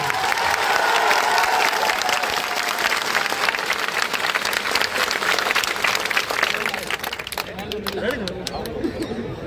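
Crowd at a political rally applauding, a dense sustained wash of clapping with cheering and chatter mixed in, thinning out toward the end.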